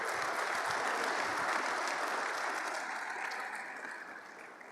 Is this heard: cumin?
no